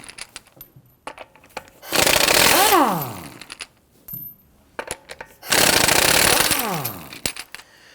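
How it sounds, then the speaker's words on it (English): A power tool with a 19mm socket loosening the wheel lug studs on a 2001-2009 Volvo S60 2.5L, two loud rattling impact bursts of about a second each, separated by clinks and handling noises. "we're going to use our 19mm socket to loosen the lug studs"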